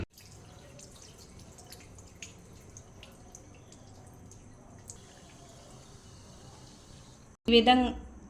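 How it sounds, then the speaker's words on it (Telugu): Idli rava rinsed with water in a glass, faint drips and quiet trickling for several seconds, then a short loud splash and slosh of water at the end. "ఈ విధంగా ఇడ్లీ రవ్వ కడిగి పెట్టాలండి"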